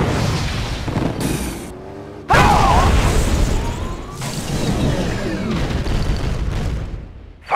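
Warships launch missiles in the video game Red Alert 2 Yuri's Revenge, with loud booming launches and explosions arriving in several bursts, separated by brief quiet gaps.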